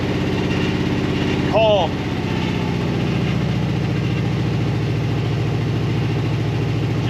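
A 1975 International 200 pickup with an automatic transmission idles steadily throughout, its low, even engine rumble running under brief speech close by.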